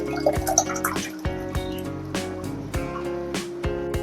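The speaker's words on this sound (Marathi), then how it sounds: "आता आपण यामध्ये घोटून घेतलेली डाळ घालून घेऊया" Mashed dal goes into a spiced masala for dhaba-style dal tadka, making a series of close, wet plops and drips at uneven intervals.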